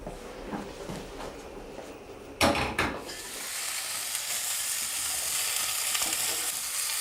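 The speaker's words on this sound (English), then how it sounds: "So we've now got the potato, carrot and the onion in the pan" Potato, carrot and onion fry in a pan, with a clatter as they go in, followed by a rising, steady sizzle that stays close and continuous.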